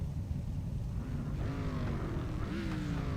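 360 sprint cars race on a short dirt oval at Irwindale Speedway, engines droning steadily with rising and falling whine as cars pass, loud and continuous throughout.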